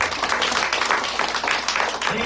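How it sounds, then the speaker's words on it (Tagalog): Congregation at a New Year's church service claps together, a dense continuous patter of many hands lasting the whole moment, with a voice talking over it. "Mas malakas na palakpak para sa Panginoon."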